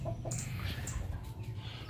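A hen clucks a few times close by on a backyard farm, short soft calls over faint outdoor background.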